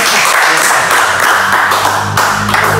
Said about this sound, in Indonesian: Tepuk tangan buat Binet.